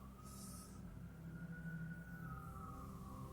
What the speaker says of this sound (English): The sirens are getting pretty loud.